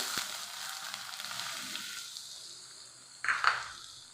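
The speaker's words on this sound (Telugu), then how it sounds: "ఇప్పుడు నేను ఆనియన్ పచ్చిమిర్చి కూడా వేయాలి" Onion and green chillies tipped into hot oil for a cashew curry, a bright hissing sizzle that fades gradually, followed by a couple of short clinks near the end.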